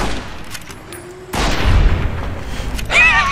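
Two sharp gunshots from Fallout: New Vegas (Old World Blues) crack out, followed by a booming rumble and lingering noise, loud and close, with a brief electronic chirp near the end.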